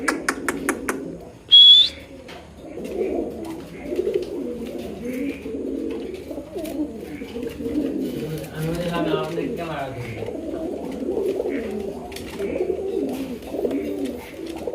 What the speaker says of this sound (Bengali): দেখতে পাচ্ছেন গিয়াচুলি কবুতর